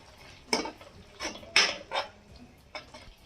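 A spoon scrapes and clacks against a cooking pan as ginger garlic paste is stirred into tomato masala for paneer matar. The stirring strokes come in a few separate bursts, close up, with no voice.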